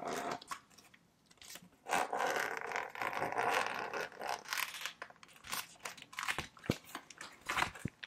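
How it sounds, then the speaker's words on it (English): Quiet rustling and scratchy zipping noises from the zipper on a CD case, with crinkly handling sounds and a few sharp clicks, close up, no voices. "It has a zipper, two zippers actually, but one main zipper here."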